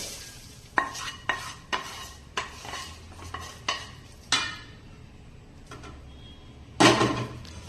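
Repeated scraping clinks of a spoon stirring a mustard-seed tempering into khaman in a metal pan, several strokes in an uneven rhythm, close and fairly loud, with no talking.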